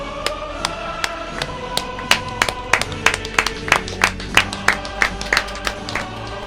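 An applause sound effect plays during a stream, with sharp rhythmic claps landing in a regular beat over a sustained musical backing.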